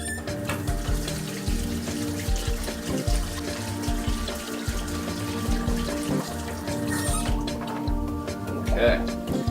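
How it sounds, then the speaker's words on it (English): Tap water runs steadily into a kitchen sink while hands are washed, a continuous splashing stream with faint voices in the background. "Go ahead and wash your hands."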